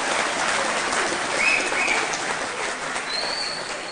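Steady TV studio audience applause fills the clip, a dense wash of clapping from many hands with no voices standing out.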